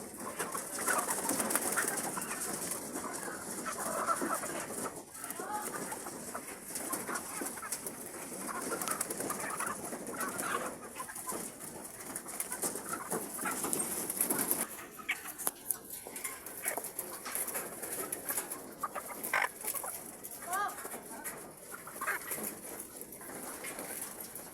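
A large rooster clucks and makes cooing calls in a repeated, uneven series, fairly close, over a soft outdoor background.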